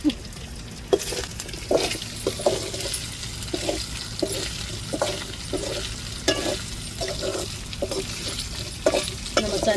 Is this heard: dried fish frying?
yes